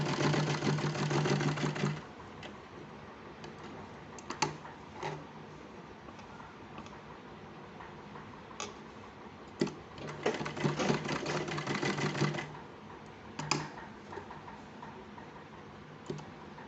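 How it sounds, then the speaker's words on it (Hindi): A sewing machine stitching a small child's kurta made from leftover fabric: a loud, steady whirring run of about two seconds, then light ticks and clicks, then a second stitching run of about two and a half seconds, close by. "अब जिस शेप में ये है आप इसी शेप में इसकी न्यू सिलाई लगा दो"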